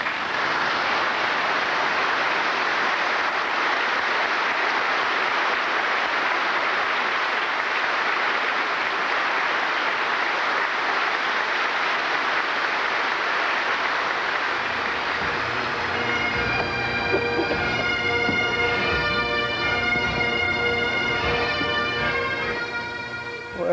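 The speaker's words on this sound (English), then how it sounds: "the people in the church could stand up and outside and just applaud for Harry" A funeral Mass crowd for an FDNY firefighter applauds inside and outside a church in a long, dense wash of clapping. After about fifteen seconds, droning bagpipes join and carry on over the fading applause.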